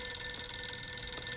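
A telephone rings indoors in a scene from a French drama, a steady electronic ring that holds for the whole moment with no voices over it.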